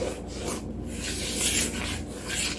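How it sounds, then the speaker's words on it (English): Eggs and sugar whisked together in a bowl for a coffee cake batter, giving a steady scraping, rubbing swish that runs nearly unbroken and close by, with slight rises in loudness. "So we're going to whisk this together with the eggs and sugar."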